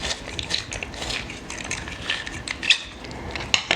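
Paper being fed through the coarser rollers of a quilling kit's hand crimper, giving a continuous close ratcheting, crunching mechanical clatter with a few sharper clicks and no talk.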